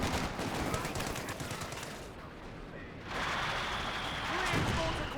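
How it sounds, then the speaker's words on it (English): A mortar pit and an infantry support gun trade long-range fire in Company of Heroes 2, with rapid crackling gunfire and dull explosive thumps layered over a busy battlefield din, steady and fairly loud throughout. "Mortar Pit versus Infantry Support Gun. Blasting each other long range"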